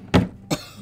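Two separate coughs from a person close to the microphone, a sharp burst followed by a shorter second one, with quiet room tone in between and no talking.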